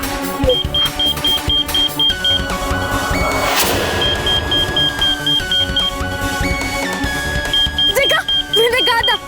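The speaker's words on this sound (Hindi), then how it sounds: "तो इसका अलार्म भी बज रहा है, तो ये जरूर फटेगा।" A supposed bomb inside a strange egg sounds a loud, rapid run of evenly spaced electronic alarm beeps, with shifting tones and voices over it.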